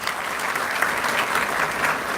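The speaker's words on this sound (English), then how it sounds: "Please welcome her with a big round of applause." A conference audience at an IEEE international conference gives a guest a big round of applause, a steady, even roar of many hands clapping throughout.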